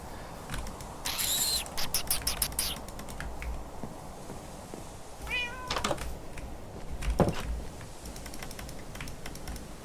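A cat in the video game Minecraft gives a couple of short meows, one early and one midway, over busy clattering computer keyboard typing and faint background sounds.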